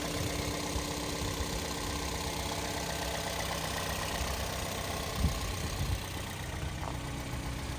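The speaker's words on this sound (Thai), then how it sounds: "เราสตาร์ทกันแล้วค่ะพี่พี่ เสียงนิ่งๆนิ่มๆเลยนะคะ" A 2011 Toyota Vios 1.5E idles steadily just after starting, a low, smooth, even engine hum that holds continuously, with a couple of faint brief knocks partway through.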